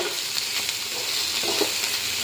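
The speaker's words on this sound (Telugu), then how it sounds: "ఇలా బాగా ఆయిల్లో ఫ్రై అవ్వాలి." Boiled broad beans frying in hot oil in a pan, a dense, constant hiss of sizzling with faint bubbling crackle, steady and close.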